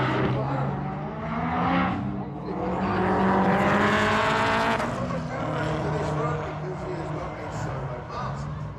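Drag race car running down the strip at Santa Pod during a Fast Show semi-final bye run, a loud sustained engine roar swelling as it passes, with people talking over it.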